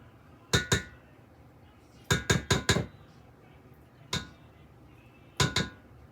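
Metal mixer beaters rapped against the rim of a bowl to knock off cold brew cookie dough, sharp close clanks in quick bursts of two to four with pauses between, no talking.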